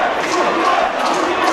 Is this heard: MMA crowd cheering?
yes